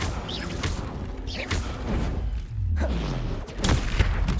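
A Confringo blasting spell goes off in the Hogwarts Legacy video game, amid chaotic combat effects and several loud booming bursts that hit one after another.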